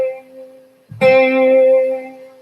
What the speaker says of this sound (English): flanger and chorus